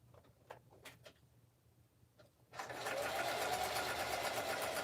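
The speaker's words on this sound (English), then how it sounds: "I'm going to sew this because why not?" A sewing machine stitches through a paper card, starting after a few light handling taps and then running as a continuous fast whirring rattle, close and fairly quiet.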